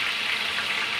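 Onions fry in oil and ghee with cinnamon and cloves in a large pot for a 15 kg chicken biryani, giving a steady, close, dense sizzle with no voices.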